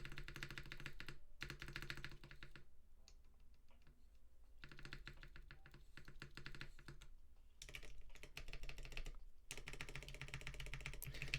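Mechanical keyboard with TKD Cycle 80 switches struck by fingernails, giving dense bursts of sharp, slightly scratchy clicking close by, broken by short pauses between runs of typing.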